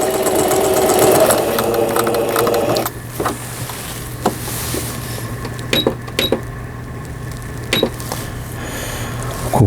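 A Singer 5400 domestic sewing machine sewing a honeycomb pattern stitch, loud and close with a steady mechanical whir that changes after a few seconds into a quieter hum with repeated sharp clicks and knocks.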